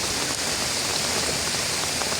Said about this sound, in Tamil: மூழ்கலாம் தண்ணிக்கெல்லாம் நிற்கிது பாருங்க. சரியான வெள்ளம்.